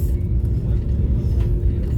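Steady low rumble of the Bangalore–Coimbatore Vande Bharat Express electric train running along the track, heard from on board, a continuous dense roar with no breaks, fairly loud and close.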